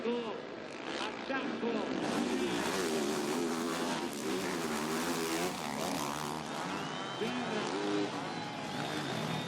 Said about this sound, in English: Putting on the panic revs at the top of the hill.